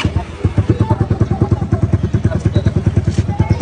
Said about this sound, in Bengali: গিয়ারে আছে এখন বাইক।